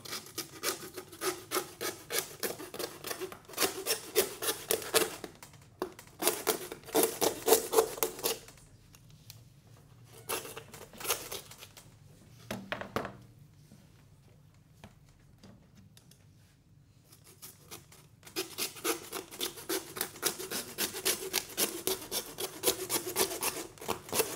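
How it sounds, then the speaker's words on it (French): Lamb rib bones are sawn through in a kitchen butchery session. The strokes come close, fast and rhythmic, in two long runs with a quieter pause between them, and no one speaks. "il y a juste à scier les côtes"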